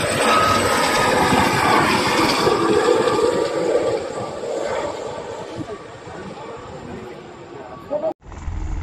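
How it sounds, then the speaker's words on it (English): Police helicopter flying over an airport airshow in Virginia: a loud, droning engine roar with people talking over it gradually fades, then cuts off abruptly near the end. "Yeah, that's a police helicopter over there"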